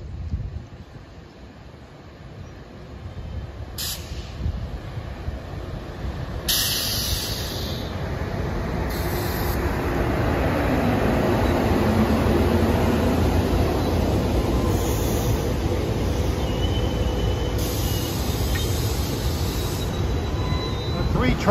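A SEPTA train bound for West Trenton arrives at Langhorne station, its wheels squealing in repeated high-pitched bursts over a rising rumble and hiss as it draws near.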